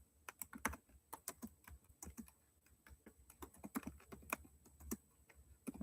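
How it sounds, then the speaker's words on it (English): Close, crisp typing on a computer keyboard: irregular keystrokes in bursts with brief gaps, quiet room, no talking. "I'm gonna finish typing this out"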